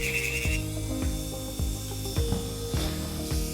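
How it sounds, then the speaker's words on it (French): A nail file rasps across the edges of gel nails during gel removal in short, repeated strokes roughly every half second, close and fairly quiet with no speech. "Hop, on lime les bords. Du coup, je lime là."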